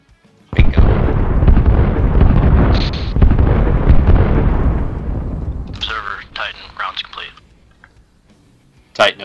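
Artillery shells impacting in the video game Arma Reforger: a sudden heavy boom rolls into several seconds of rumbling blasts, then fades as a voice speaks over the tail, with one more sharp burst at the end.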